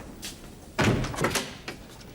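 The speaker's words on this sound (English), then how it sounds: "Close the door, please." A door being shut in an indoor office scene, one solid thunk followed by a couple of lighter knocks and rattles, close and fairly loud with no talk over it.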